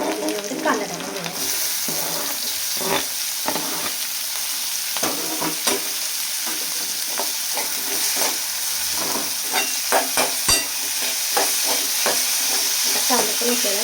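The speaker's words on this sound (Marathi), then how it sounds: "आता थोडीशी मिरची तळली थोडी राहिली तर त्याच्यामध्ये कांदा टाकून घ्यायला." Onion and green chillies fry in oil in a pan, a constant hissing sizzle joined by frequent sharp stirring and scraping clicks, close up and without talk.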